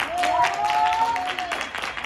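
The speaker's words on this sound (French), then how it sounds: "Est-ce qu'on peut vraiment essayer de les applaudir?" Audience applause at a young talent contest, a short burst of clapping mixed with a sustained tone and some voices underneath.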